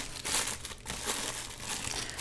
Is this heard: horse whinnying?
no